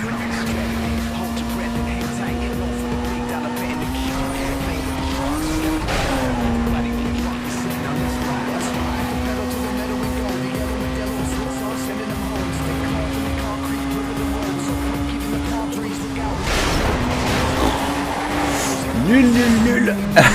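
A racing car accelerates in Need for Speed: Most Wanted (2005). The engine whines steadily at high revs with brief pitch rises as it changes speed, and a tire squeal near the end. Someone talks over it throughout.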